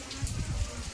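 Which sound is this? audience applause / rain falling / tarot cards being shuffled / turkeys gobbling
rain falling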